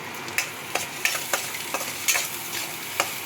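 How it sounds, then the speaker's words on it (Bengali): Egg masala sizzling in a pan as it is stirred, a soft steady fry broken by a run of crisp, evenly spaced spatula scrapes and taps close by, with no voices. "নেড়ে চেড়ে ফ্রাই করে নেওয়া হবে"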